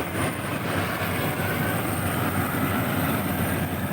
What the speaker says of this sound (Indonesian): Mesin kombi lewat, jadi agak suaranya kurang terdengar.